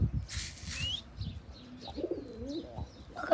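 Pigeons flap their wings in a brief loud burst, followed by soft cooing and scattered chirps close by.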